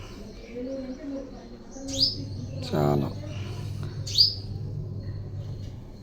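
A common myna calls near a household mirror with two sharp, bright chirps a couple of seconds apart, heard alongside soft background talk and a low steady hum.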